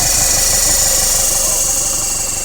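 A car engine idling with all drive belts removed, still noisy: a loud, close, steady mechanical drone with a fast rhythmic ticking and knocking pulse underneath.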